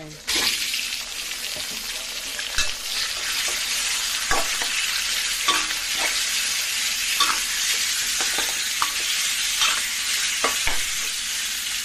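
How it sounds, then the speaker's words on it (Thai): Pork belly and pork neck stir-frying in hot oil with fried shallots, a steady loud sizzle with repeated scrapes and clacks of the spatula throughout. "ผัดให้มันออกเหลืองนิดหน่อย แล้วก็เอาหมูมีหมูสามชั้น กับสันคอหมู"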